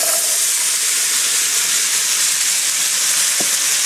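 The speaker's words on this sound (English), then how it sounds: "over medium-high heat I melted the butter and it's gotten a little brown. So now I'm going to go ahead and add in our vegetables" Vegetables hit browned butter in a hot pan over medium-high heat, giving a loud, steady sizzle and hiss that carries on unbroken and close by, with no voices.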